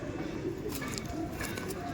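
Pigeons in a house loft give soft, low cooing, faint and partly masked beneath nearby talk.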